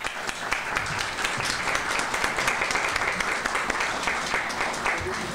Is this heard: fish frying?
no